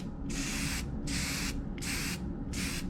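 Spray finish is sprayed onto an applewood vase in four short, even hissing bursts with brief pauses between them, close and fairly loud.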